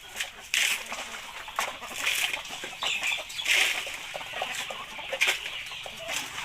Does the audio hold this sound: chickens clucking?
yes